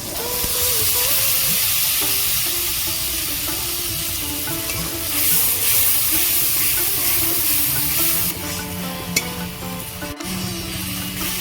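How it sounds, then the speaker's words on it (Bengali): Spice paste sizzles and fries in hot oil in a pan for a Bengali fish curry with cauliflower, a loud continuous crackle and hiss with occasional stirring scrapes, steady throughout. "মশলাগুলো ভালো করে আমি কষিয়ে নেবো"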